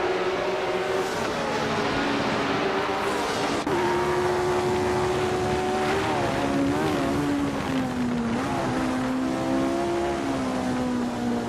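Race cars battle closely for position, several engines whining loudly together with pitch sliding up and down as they shift and jostle, a steady close roar throughout.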